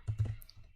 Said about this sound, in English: now I could type the address